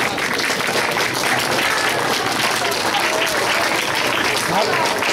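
A crowd of people claps steadily throughout, a dense, continuous wash of applause with voices mixed in, as if trying to make dirt move.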